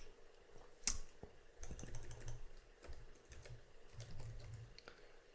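Typing on a computer keyboard comes in short bursts of close, quiet key clicks, with a sharper tap near the start.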